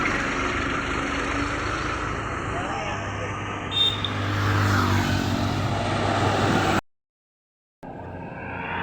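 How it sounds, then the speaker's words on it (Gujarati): A tractor carrying a pilgrim group on foot to Ranuja rolls past on the road, its engine a steady, fairly loud droning rumble that holds for several seconds before the sound cuts out briefly. "એક ટ્રેક્ટર બીજું પણ જઈ રહ્યું છે રણોજા યાત્રા સંઘમાં"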